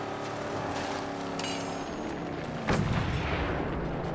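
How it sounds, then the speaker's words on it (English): Gunfire in the Mad Max video game, a single sharp, loud blast ringing out over a steady low engine drone, with a fainter thud a moment earlier. "Whoa, they're shooting."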